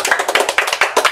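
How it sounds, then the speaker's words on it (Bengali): A group of people clap together, bursts in a quick rhythmic cheer for contestants about to eat thirty eggs in three minutes, close and loud with no talking. "এই সবাই একটা হাততালি দেন"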